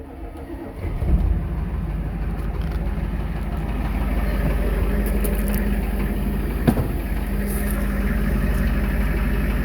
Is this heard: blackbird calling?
no